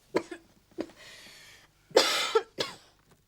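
Several harsh coughs close by, a few sharp single hacks and a longer rasping fit, with short quiet gaps between.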